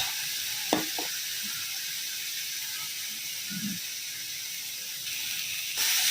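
Ginger-garlic paste sizzles in a pan of onions cooked down for capsicum mutton, a steady broadband frying hiss throughout with a couple of brief clinks of utensils and a louder surge of sizzle near the end.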